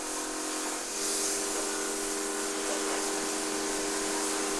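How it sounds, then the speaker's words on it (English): A high-pressure cleaner blasts steadily in an Alpine cattle barn, a constant bright hissing spray with a faint tonal whine running underneath, unbroken throughout. "the high-pressure cleaner is already blasting full steam"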